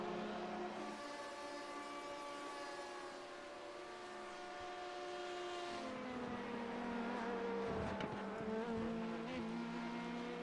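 Race cars sweep through turns 3 and 4 of the Daytona banking in a NASCAR racing game, engines droning steadily at moderate distance, with rising and falling pitch as cars pass and a sharper surge near the end; no talk.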